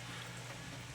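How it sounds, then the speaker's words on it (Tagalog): Heavy rain pours down in a dense, continuous hiss, steady and quite faint for about a second, with no voices. "Yan, lakas ng ulan"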